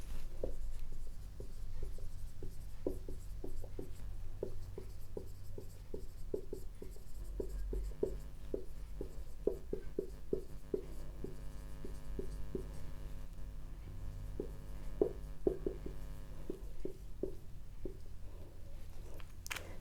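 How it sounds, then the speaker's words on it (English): Pen or chalk writing by hand, a steady run of short scratchy strokes in uneven rhythm over a low constant hum, close and fairly quiet, with no talking. "So let me write it down here."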